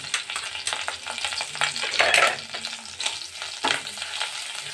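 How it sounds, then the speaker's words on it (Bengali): Chopped ginger and garlic fry in a pan for palak paneer while being stirred, a loud close sizzle with scraping stir strokes and no talking. "আদা রসুন কিছুক্ষণ আমি নেড়ে নেব কাঁচা গন্ধটা চলে যাওয়া পর্যন্ত"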